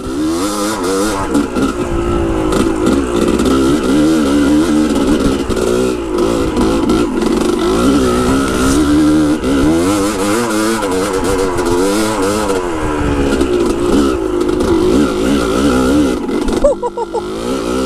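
A motorcycle engine revs hard in third gear, close and loud, its pitch rising and falling through acceleration with wind rush, ending in a brief clunk.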